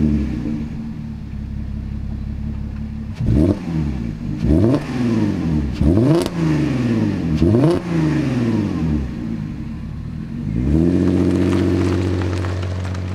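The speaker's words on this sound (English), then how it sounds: "let's jump in the Cayenne, go for a little drive" A Porsche Cayenne on the move shifts up through its gears, engine note rising and dropping in a repeating sawtooth of about five quick pulls, then settles into a louder, steady drone near the end; no talking.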